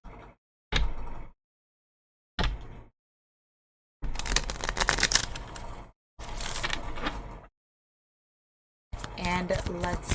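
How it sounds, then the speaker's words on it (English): A tarot card deck is shuffled in separate close bursts of riffling and flicking cards, each separated by silent gaps, with louder rustling stretches toward the middle and end. "let's go ahead and shuffle this tarot deck"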